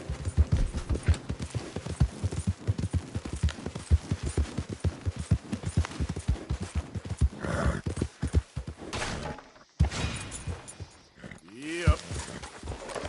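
Horse hooves clip-clop in a quick, even rhythm in the video game Red Dead Redemption 2, close and loud, with brief voices over the hoofbeats before they break off near the end.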